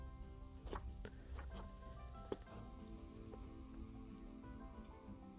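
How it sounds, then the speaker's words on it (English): Rain pattering down in the Planet Zoo PC zoo-management game, a steady fine hiss of drops with a few sharper ticks, fairly quiet and continuous, no voices. "And it's dark and raining again."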